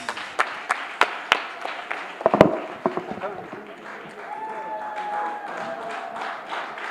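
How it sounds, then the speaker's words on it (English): Scattered hand claps at a nursing and midwifery quiz competition, starting as a few sharp separate claps then thickening into a brief round of applause that settles into steady crowd noise with some talk underneath. "Let's give a round of applause."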